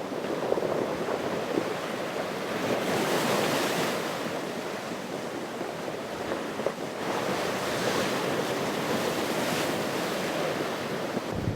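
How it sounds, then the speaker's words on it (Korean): Winter sea waves crash and surge against large rocks on the Gangneung coast, a loud continuous roar with swelling breakers and wind noise, no voices. "파도가 커다란 바위를 삼켜버릴 듯한 기세로 힘차게 훌렁거린다."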